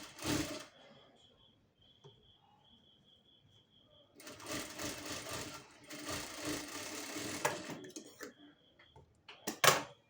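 A sewing machine runs in bursts, stitching a fabric strip over a lining, with loud whirring passages separated by quiet pauses and a sharp clack near the end.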